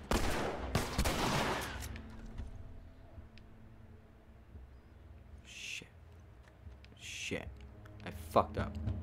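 Gunfire in The Last of Us video game: a loud burst of shots at the start, then scattered sharper cracks and thumps over quieter game ambience, with a voice talking in between.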